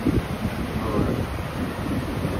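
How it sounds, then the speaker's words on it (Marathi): On the beach at Harnai on the Konkan coast, wind buffets the microphone over a low, rolling rumble of sea and surf. The noise is continuous and gusty and runs throughout. "हा बघा हरणाईचा समुद्र किनारा"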